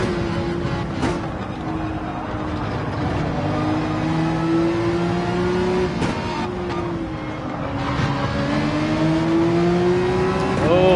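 Race cars accelerate in a Gran Turismo 7 drag race on Dragon Trail. Engines rev steadily and loudly with rising and falling pitch through gear changes, and the roar holds for the whole stretch.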